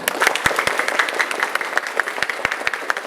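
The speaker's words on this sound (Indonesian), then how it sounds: "Tepuk tangan yang kedua lebih kencang." A junior high school audience claps steadily, a dense patter of many hands with a few sharper near claps standing out, loud and continuous.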